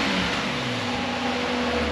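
A Nissan 370Z with a custom race exhaust gives a brief rev that rises and settles, a droning engine tone under loud whirring cooling fans, close by.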